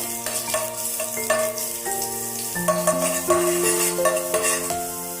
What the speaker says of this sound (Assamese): আদা আৰু নহৰুখিনি দিও ভালকৈ লৰাই দিব।